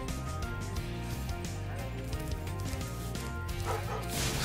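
Aggressive dogs barking and yipping in the Spyro Reignited Trilogy video game on PS4, mixed with steady game music, loud and continuous throughout.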